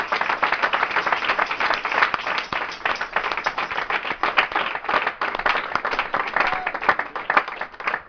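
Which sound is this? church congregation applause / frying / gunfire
church congregation applause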